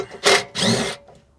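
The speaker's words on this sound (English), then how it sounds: "Definitely use a power tool." Two short bursts of a whirring power tool removing 15 mm bolts from Brembo 6-piston brake calipers on a Tahoe, the second longer, loud and close, followed by quieter mechanical clinks.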